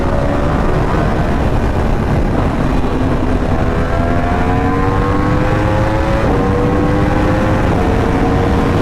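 A Yamaha R1M sport motorcycle held at full throttle on an open road roars loud and continuous, its engine whine climbing steadily in pitch with a brief dip near the end, up close over rushing wind.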